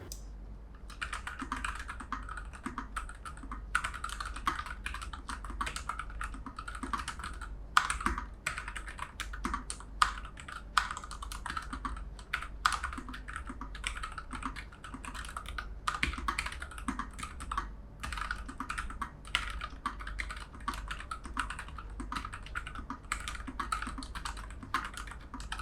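Continuous typing on a Nuphy Air 75 low-profile mechanical keyboard, fast irregular clacks and taps close up, with occasional heavier key strikes, over a quiet background.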